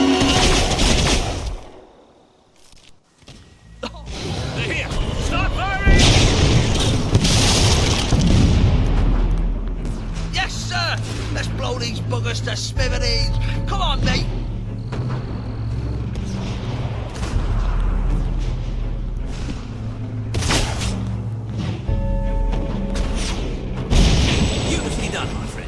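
Gunfire and booming artillery blasts in the video game Fable III, with repeated explosions and volleys at close range mixed with game voices and music.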